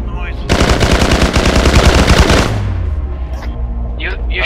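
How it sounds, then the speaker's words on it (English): Loud automatic gunfire in the video game S.T.A.L.K.E.R.: a dense, rapid burst of about two seconds, followed by echoing tail and faint background voices. "Got a gunshot at the front gate."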